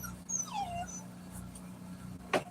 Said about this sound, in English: My dog Sassy sitting next to me